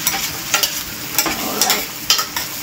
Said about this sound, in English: lagay na natin itong ating sugpa